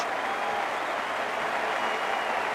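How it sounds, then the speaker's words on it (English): A cricket crowd at a 1996 New Year's Day one-day international between Australia and West Indies applauds a departing batsman, a steady, even wash of clapping throughout, distant and spread across the ground. "The crowd gives Paul Reiffel a well-deserved round of applause."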